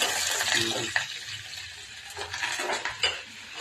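Curry leaves and tempering spices fry in a pan while a utensil clinks and scrapes against the metal, giving short knocks over a low sizzle.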